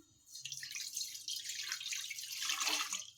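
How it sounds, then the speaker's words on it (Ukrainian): Water poured from a tap into a saucepan in a kitchen sink, a steady splashing stream that starts soft and grows fuller and louder as the pot fills, with no talking. "В кастрюлю наливаємо пів літра води."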